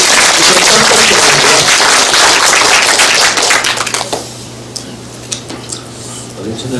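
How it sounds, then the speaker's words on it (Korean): An audience at a special lecture on civic democracy at a university forum bursts into loud, dense applause. After a few seconds it thins out to scattered, fading individual claps over a low hum. "제 얘기에 동의하시는 분만 박수를 한번 쳐주시죠."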